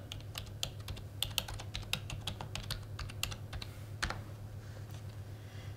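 Rapid, uneven keystrokes on a computer keyboard as a web search is typed in, sharp clicks clustered in bursts over a steady low hum, with no voices.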